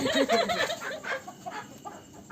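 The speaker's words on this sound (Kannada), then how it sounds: "ಇವರು ನಮ್ಮ ಫ್ರೆಂಡ್ ಕರೆಪ್ಪ ಅಂಗಡಿ ಅಂತೇಳಿ ಕೋಳಿ ಫಾರ್ಮ್ ಐತಿ." Chickens cluck softly at a poultry farm in Hubballi, a faint, uneven mix of fowl calls over low background noise.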